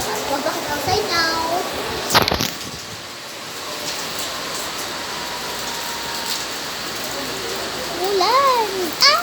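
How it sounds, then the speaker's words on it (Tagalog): Heavy rain pours steadily as a dense, even hiss with a few louder drops, while children talk and shout over it near the start and end. "guys, umulan na ng malakas."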